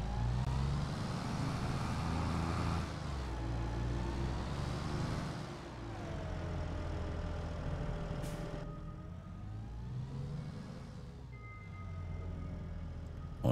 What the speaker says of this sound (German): Da läuft noch irgendwo der Motor.